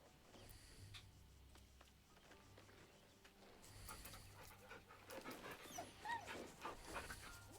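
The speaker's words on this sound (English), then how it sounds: "Petting a dog." A dog in the fantasy video game Baldur's Gate 3 pants while being petted, with quick breathy huffs and a faint whimper, rising in intensity toward the end over a quiet low background hum, no speech.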